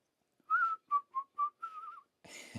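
A few bars of an old Disney tune whistled alone in clear, tuneful phrases, ending with a short burst of noise.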